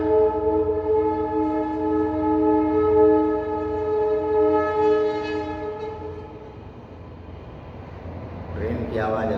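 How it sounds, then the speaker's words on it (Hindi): A train passes close by, its horn blaring in a long steady sustained tone for several seconds over heavy rumbling wheel noise, then fading slightly as the rolling continues with a brief squeal near the end. "ट्रेन की आवाज़ अभी भी डिस्टर्ब कर रही है।"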